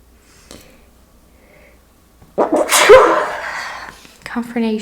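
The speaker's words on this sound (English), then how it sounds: "Confirmation sneezes." A single loud sneeze breaks a quiet moment, followed by a short sniff and the start of a voice.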